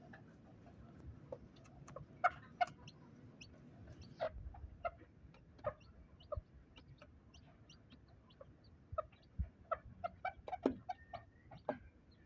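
A bantam hen and her four-day-old Benjarong chicks make soft, scattered clucks and peeps at close range, irregular chirps popping over a quiet rustling background.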